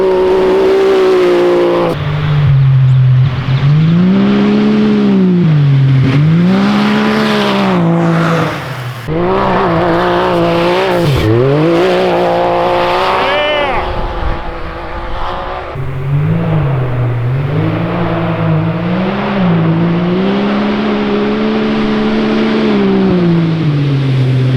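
A Can-Am Maverick X3 side-by-side with an upgraded muffler revs repeatedly up close, loud throaty swells rising and falling, with a few short pauses between pulls.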